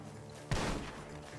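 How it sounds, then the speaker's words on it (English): Single gunshot in Red Dead Redemption 2 gameplay, a sharp crack with a short decaying tail over a quiet ambient background. "The gunshots are coming from that."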